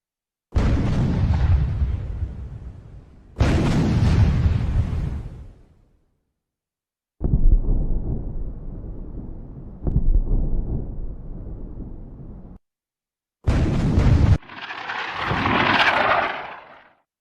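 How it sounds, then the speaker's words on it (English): Distant explosions in a video game: a series of deep, rumbling booms one after another, each rolling out into a long, low decay, separated by brief silences. "Sound from distant explosions is calculated as a function of distance and speed of sound"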